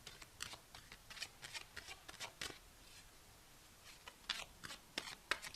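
Tarot cards shuffled and pulled by hand, a run of crisp riffling slaps and papery flicks at an uneven pace, close and fairly quiet, with no talking.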